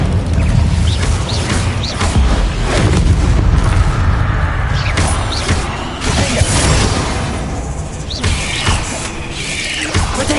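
Incendio fire spell cast in the game Hogwarts Legacy, with a loud continuous roaring, crackling burst and mechanical clanks running through a dense battle mix for about ten seconds.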